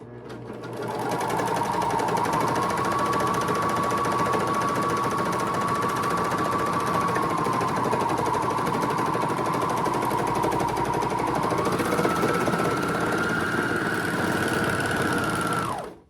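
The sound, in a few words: serger overlock machine sewing tote bag side seams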